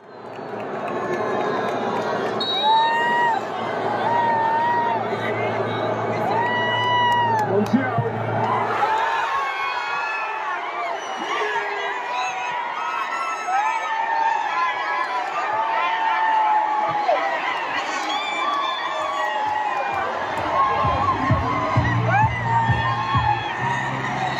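A large crowd in Kolhapur celebrates Argentina's World Cup win, with sustained whooping, shouting and cheering that stays loud throughout, along with chatter and a low rumble of motorbikes, heard from within the street celebration.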